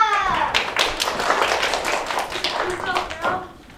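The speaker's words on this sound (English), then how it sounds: "let's hear a big round of applause for a very talented little lady, Athena!" Audience applause for a young performer named Athena at Olympus High School, a dense burst of clapping heard at close range that keeps up steadily for a few seconds and then tapers off.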